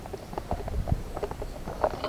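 Mule hooves on a mountain trail during a trek on Mount Banahaw, a few uneven clip-clop steps close by, fairly loud, with faint voices in the background.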